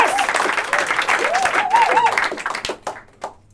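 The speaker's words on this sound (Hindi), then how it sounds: "कस के कुत्तों की तरह तालियां बजानी है।" An audience at an improv comedy show claps loudly and steadily, with a few whoops and cheers rising over the applause before it thins out into scattered claps.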